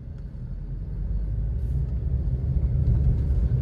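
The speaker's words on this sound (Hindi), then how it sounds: "इस गाड़ी का इंजन काफ़ी रिफाइन है, चलने में गाड़ी काफ़ी बढ़िया लग रही है" A Maruti Ignis engine runs steadily while driving, a low, smooth cabin rumble that rises gently as the car picks up speed, with no talking.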